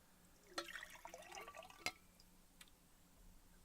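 Water pours and splashes into a glass, a soft, uneven trickle with a few brighter clinks, fairly quiet and close by.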